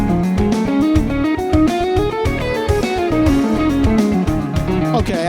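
Electric guitar plays a minor pentatonic lick with a flat 5 over a full backing track, distorted sustained notes bending and sliding above a loud, dense band mix with steady drums.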